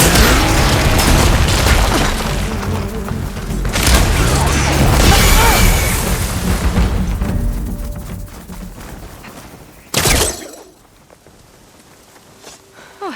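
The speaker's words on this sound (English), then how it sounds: "Hey, big explosion! Watch out!" An explosion goes off in Horizon Forbidden West, Burning Shores: a loud, dense rumbling blast with debris and action noise through the first half, fading, then a second sharp burst near the end before things go quiet.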